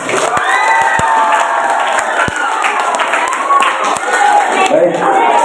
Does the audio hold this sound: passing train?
no